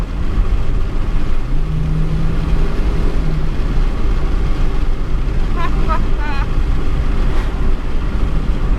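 An old junk car keeps running after brake fluid was put in its gas tank, a loud steady engine rumble throughout with a few faint chirps partway through.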